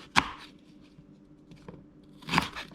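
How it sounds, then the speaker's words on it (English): A knife cuts peeled quince into small pieces, giving two crisp crunching chops about two seconds apart with faint quiet contact sounds in between, close and otherwise quiet. "just cut into small pieces, so make it easier to blend in the blender"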